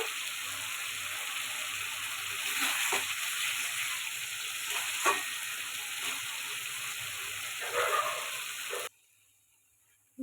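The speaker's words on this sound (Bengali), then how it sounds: "দর্শক বন্ধুরা মশলাটা ভালো করে কষিয়ে নিয়েছি তেল ছেড়ে দিয়েছে" Spices and oil sizzle steadily in a pan for a pabda fish curry, a continuous frying hiss with occasional stirring scrapes, fairly close, before cutting out near the end.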